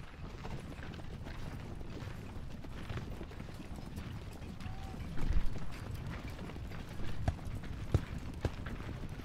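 Cavalry horses in the Ultimate General: Civil War game trot with a steady clip-clop of hooves over a low continuous rumble, with a few louder hoof clusters later on.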